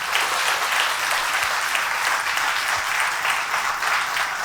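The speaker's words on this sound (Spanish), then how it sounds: "A Él sí dele un aplauso fuerte, Dios se lo merece." A church congregation claps loudly and steadily, a dense, even wash of applause that holds for several seconds without a break.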